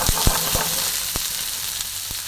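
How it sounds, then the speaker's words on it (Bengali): A generous amount of onion fries in a pan over a medium flame, giving a constant close sizzle. Several sharp pops and crackles cut through it at irregular moments, with no voices. "সুন্দর করে ভেজে নিচ্ছি আমি।"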